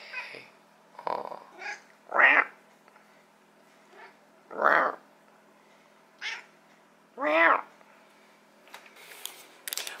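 A cat meows several times in short, separated calls at a festival. The meows sit close and fairly loud against a quiet background, with brief soft sounds from a person in between.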